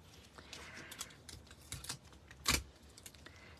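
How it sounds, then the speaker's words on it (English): A short strip of scotch tape is pulled off the roll during card-making, a sharp tearing rip near the middle of a quiet stretch of faint paper handling and light clicks. "I'm just going to cheat with some scotch tape"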